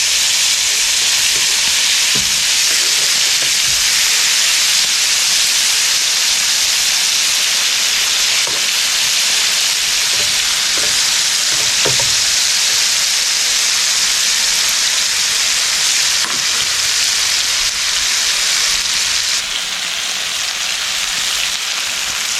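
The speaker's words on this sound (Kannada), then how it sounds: "ಫಿಶ್ ಫ್ರೈ ಆಗಿದೆ. ಇವಾಗ ಇನ್ನೊಂದು ಸೈಡಿಗೆ ಫ್ಲಿಪ್ ಮಾಡುವ." River fish from Kundapura, coated for a traditional fry, sizzling steadily in hot oil in a pan as it is turned onto its other side, a constant loud hiss with faint clinks.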